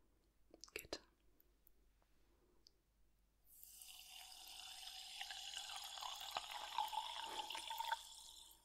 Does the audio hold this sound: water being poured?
yes